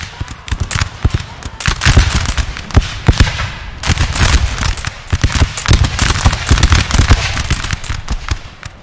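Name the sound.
massed gunfire of 290 guns in Napoleon Total War video game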